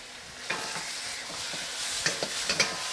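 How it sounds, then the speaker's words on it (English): A spoon stirs cornstarch slurry into a sizzling asparagus stir-fry sauce in a pan, giving soft frying hiss with a few sharp scraping clinks near the end. "So I'm just gonna thicken the sauce and then we're done. A little cornstarch slurry."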